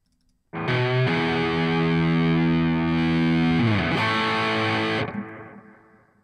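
An electric guitar played through a Line 6 HX Stomp amp and cab model rings out as one loud, heavily distorted sustained chord that bends in pitch partway through, then cuts off and decays, with no speech.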